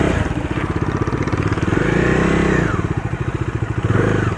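A Bajaj Dominar 250 BS6 motorcycle engine revs in first gear on a stand, a close, loud, pulsing exhaust note that rises and falls through a few revs.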